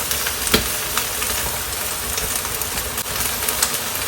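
Chaozhou spring greens stir-fried in a wok over high heat, a steady broadband sizzle with soft scraping stir sounds and a few sharper clinks, continuous and close throughout.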